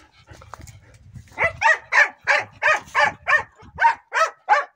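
Several pet dogs bark in a steady run of about ten loud, close barks at a roughly even rhythm, following a low rumble at the start, with no talking.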